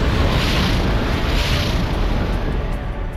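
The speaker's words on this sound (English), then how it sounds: "Mac blast incoming." MAC cannon blast in the Xbox 360 real-time strategy game Halo Wars, a loud sustained rumbling roar like a massive explosion or eruption filling the whole stretch.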